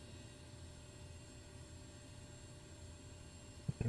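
Steady, even drone of a TBM 850 single-engine turboprop in Microsoft Flight Simulator 2024, holding smoothly throughout at moderate level, with a couple of short bumps right at the end.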